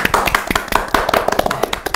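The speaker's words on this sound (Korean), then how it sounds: "박수!" A small studio audience claps to welcome a psychological counselling centre director onto a Korean online advice show, with sharp distinct hand claps in a brisk uneven patter, close and fairly loud.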